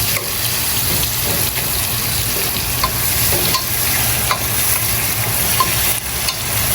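Onions fry in oil for a mutton curry, giving a continuous close sizzle broken by occasional clinks and scrapes of a spoon stirring the pan.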